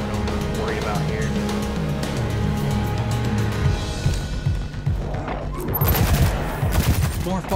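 Video game gunfire rattles in dense bursts through a busy mix of music and effects, thickening into louder, heavier volleys over the last few seconds.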